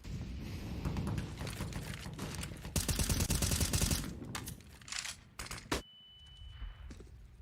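Counter-Strike gunfire on the Mirage map in a professional esports match. Rapid bursts of automatic rifle fire and sharp single shots ring out in clusters, followed by a brief quieter stretch with a faint tone.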